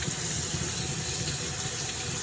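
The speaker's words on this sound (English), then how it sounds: "I'm going to wash our onions and our fresh parsley. You can add as much as you want with nice cold water." Cold tap water runs steadily into a sink while onions and fresh parsley are washed for potato patties, a continuous close splashing gush with no voices.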